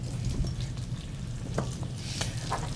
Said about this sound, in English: Hear that bubbling up?